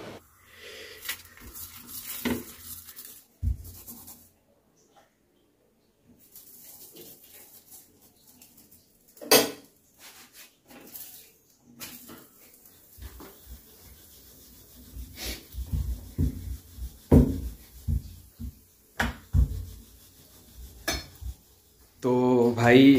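Paratha dough being rolled out and cooked in a home kitchen: intermittent rubbing and scraping strokes with occasional pan clinks and quiet pauses between, close and fairly soft, with no talk.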